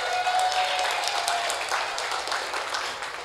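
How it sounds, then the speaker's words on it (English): An audience claps at a Swayamvaram-style matchmaking event, a steady wash of applause at moderate level that tapers gently over a few seconds. "big round of applause to Santosh."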